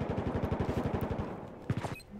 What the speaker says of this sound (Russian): Я прицелился и выстрелил в голову.